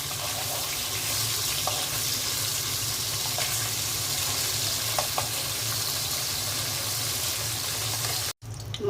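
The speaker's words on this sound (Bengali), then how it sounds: "পাবদা মাছগুলো উল্টে দিচ্ছি।" Pabda fish frying in hot oil, a steady close sizzle running throughout with a few soft clicks and pops, ending in a brief drop-out before the sizzle resumes.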